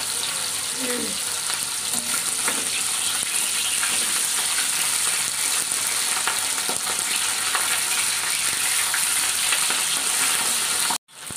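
Tengra fish sizzles steadily in a pan of hot oil, a loud, even crackle and spatter sustained for several seconds before cutting off abruptly at the end.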